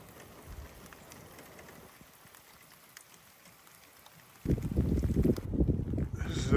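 Rain falls outdoors in southern Tasmania as a continuous soft hiss of drops, then swells into a louder, rougher rushing for the last couple of seconds.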